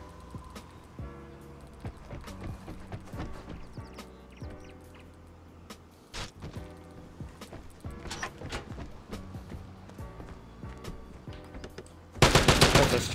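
Gunfire in the shooter game Vigor crackles in scattered bursts and single shots at a distance amid game ambience, ending in a sudden loud close burst.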